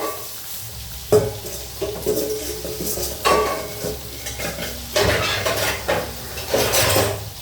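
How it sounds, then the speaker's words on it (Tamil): Fish sizzles and spits as it fries in a pan, with loud metal scraping and stirring clatter of a utensil against the pan, continuous and close. "மீன் பொரிச்சிட்டு இருக்கு பாருங்க"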